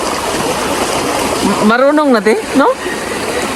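A flowing stream rushes and splashes steadily and close by, with a person speaking briefly over the water.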